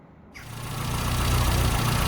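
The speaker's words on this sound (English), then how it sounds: "Okay, so got the engine running again" A car engine fitted with a new 3 ohm ignition coil kicks in abruptly and settles into a loud, steady, close-up running drone.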